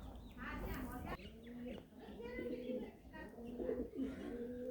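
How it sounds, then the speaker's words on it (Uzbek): Pigeons coo in repeated low rolling calls at a moderate distance while someone talks over them. "Tindirmay o'ynayotgan kaptar."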